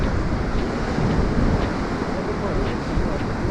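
Sea surf breaking on a windy beach at Lazarevskoye near Sochi, with continuous washing waves and gusting wind buffeting the microphone, loud and close, with no talking.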